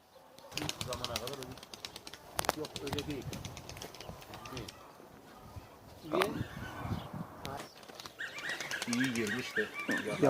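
Tumbler pigeons in Ankara flap their wings in several fluttering bursts close by, mixed with soft cooing and people talking nearby.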